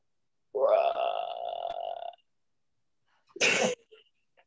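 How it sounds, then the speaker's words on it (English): A person's long, drawn-out belch lasting over a second, close and loud, followed after a pause by a short sharp burst like a second belch or sneeze. "That's your idea of a good belch, huh?"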